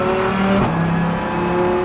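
A Lamborghini Huracan GT3 racing car with an aluminium and carbon chassis is driven hard on a track. Its engine is loud and close, a strong harmonic roar that briefly drops in pitch mid-clip as it shifts, then keeps pulling.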